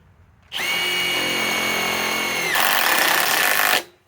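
A Master Force Boost impact driver rated at 2,000 inch-pounds runs loudly and continuously for about three seconds up close, its whine shifting to a harsher tone partway through before it stops.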